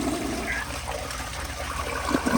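A yellow 1975 Kilgore Apex toilet flushes with a steady, close rush of water that runs the whole time and carries no talk, with a couple of small gurgles near the end.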